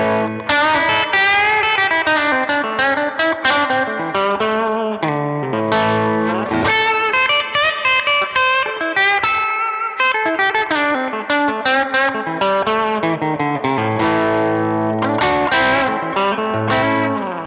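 An Enya Nova G electric guitar on its bridge pickup, heavily distorted, plays a dense, continuous riff of chords and notes, loud and up front with no talking.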